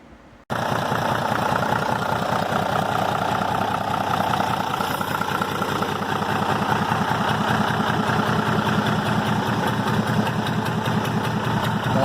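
A restored Leyland diesel truck engine fires up from cold and settles into a loud, steady, close idle with a knocking diesel clatter that runs unbroken for about eleven seconds, no voices.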